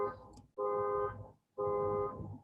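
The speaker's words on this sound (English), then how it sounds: "Oh dear, I have a car alarm in the background." A car alarm sounds in the background, two long repeating electronic tones with a short gap between them, moderately distant, with no talk over it.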